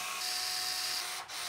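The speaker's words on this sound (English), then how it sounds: "we're going to secure the motherboard into place using nine of the screws" A motorized screwdriver whirs steadily while driving a screw to secure a motherboard into a Gamdias Neso P1 PC case, close and loud with a high whine that briefly drops out near the end.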